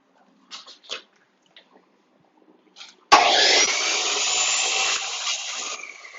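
A loud, harsh grind of a desktop mill cutting a metal fixture plate starts abruptly and runs steadily for about three seconds, following a few faint clicks and quiet handling noises.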